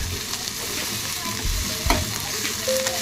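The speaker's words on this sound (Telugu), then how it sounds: "ఇది బాగా ఫ్రై అయినాక" Ginger and garlic fry in hot oil for a fish curry, giving a constant close sizzle with brief scraping stirs.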